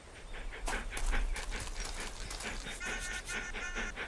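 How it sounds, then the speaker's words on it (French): A dog panting rapidly and steadily up close, with breathy huffs and a few small whimpers and snuffles, heard alone with no talk. "Oh, c'est un bon toutou,"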